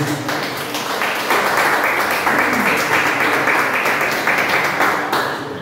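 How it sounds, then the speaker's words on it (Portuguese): Congregation applauding during a worship service held in a garage, a steady broadband wash of many hands clapping for several seconds, fairly loud and close, with some voices mixed in. "Você pode aplaudir o Senhor mais uma vez."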